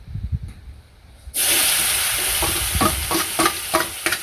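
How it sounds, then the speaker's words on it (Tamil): Anchovy and dried fish mixture dropped into hot oil, bursting into a loud steady sizzle after a quiet start, with crackling pops and stirring scrapes through the frying. "இனி பொரிக்க போட போகிறேன்."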